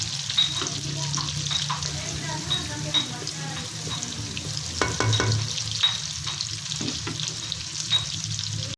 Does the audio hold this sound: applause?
no